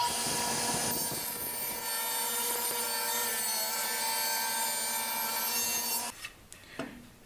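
A power saw rips a wooden fence piece to width for a crosscut sled, a loud sustained whining cut for about six seconds that then spins down, followed by a few wood knocks.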